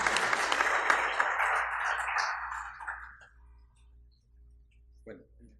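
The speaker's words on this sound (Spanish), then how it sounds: "Nuevamente un aplauso," A gathering in a mining community applauds. The dense clapping fades out over about three seconds, followed by near silence and one last isolated clap or knock.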